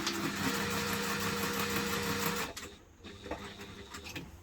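A sewing machine bastes fabric close to the edges of a hipster bag, running a steady, close mechanical whir for about two and a half seconds before stopping abruptly, leaving quiet handling noises.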